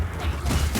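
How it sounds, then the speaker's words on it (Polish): A door creaks open in the dark fantasy co-op game Warhammer Vermintide 2: a short, mid-loud mechanical creak over a low rumbling background. "Otworzyłem kolejne drzwi."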